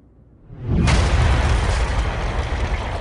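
A bomb detonates inside an aircraft during a blast test at Bruntingthorpe, giving a sudden loud boom that swells into a long, sustained roar of rumbling debris and wind. No voices are heard.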